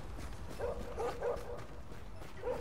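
Dogs in the video game The Division give a few short, faint barks and yips at a distance, spaced about half a second apart over a steady low background hum.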